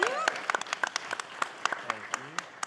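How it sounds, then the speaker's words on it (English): A panel audience at a music industry event gives a round of applause for Vince Villanueva: a modest scattering of distinct, individual claps, moderately close, with some faint voice sounds mixed in. "Round of applause for Vince,"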